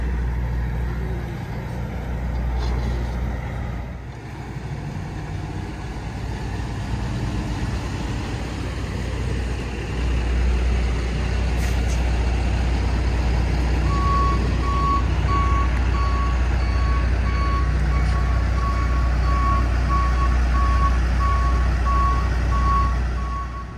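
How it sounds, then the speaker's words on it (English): Heavy trucks idle and shift around a crowded truck stop, a deep engine rumble running throughout, with a steady high reversing beeper pulsing in a regular rhythm through the second half. "there's a bunch of trucks everywhere blocking us in."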